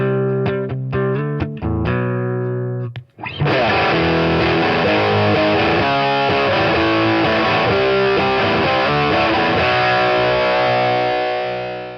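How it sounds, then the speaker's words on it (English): An electric guitar plays a few clean notes, then switches on a drive pedal and a loud, sustained overdriven chord snarls out and slowly rings away. "a drive pedal of some description is probably going to be at the top of your shopping list"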